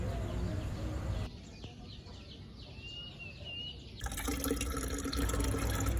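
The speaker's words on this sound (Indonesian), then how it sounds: "ini rock wool-nya udah agak mengering, jadi perlu kita siram" Water is poured over drying rockwool cubes holding hydroponic pak choi, a soft, steady splashing and trickling that runs for several seconds under outdoor background noise, with no talk.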